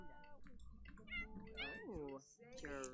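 A stray cat in The Sims 4 meows repeatedly with rising, wavering cries, fairly close and mixed with a voice talking alongside it.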